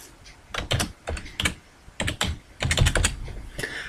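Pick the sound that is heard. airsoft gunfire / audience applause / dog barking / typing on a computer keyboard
typing on a computer keyboard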